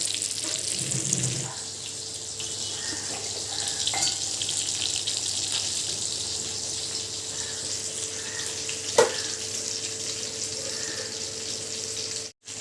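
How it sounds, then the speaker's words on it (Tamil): Fish frying in a pan with curry leaves scattered over it gives a steady, close sizzle that runs throughout, with a brief utensil knock partway through and no talking. "எங்கே மீன் பொரியல் போயிட்டு இருக்குது. வறுவல் கருவேப்பிலெல்லாம் நல்லா தூவி விட்டுட்டு"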